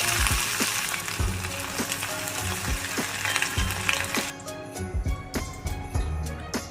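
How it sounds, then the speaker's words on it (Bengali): Chicken pieces fry in hot oil for chilli chicken, a continuous close sizzle punctuated by sharp pops and clinks of stirring, with no talking. "এরপর বাকি থাকা চিকেনটাও আমি দিয়ে দিচ্ছি ভাজার জন্য।"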